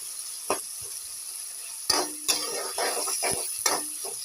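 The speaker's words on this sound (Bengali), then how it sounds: "সমস্ত মশলাগুলো দিয়ে দিচ্ছি এবার মশলাগুলোকে সুন্দর করে তেলের মধ্যে ভালোভাবে কষাতে হবে" Spices fry in hot oil with goat mutton and raw onion, a steady close sizzle broken by several sharp clanks and scrapes of a spoon stirring against the pot.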